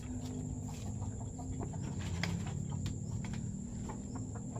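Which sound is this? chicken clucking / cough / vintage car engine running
chicken clucking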